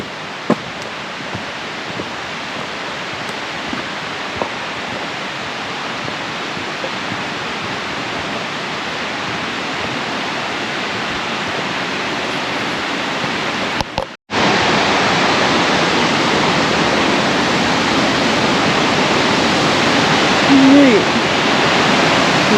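A steady, full roar of a waterfall in the Porcupine Mountains rushes without pause, briefly cutting out midway before resuming just as loud.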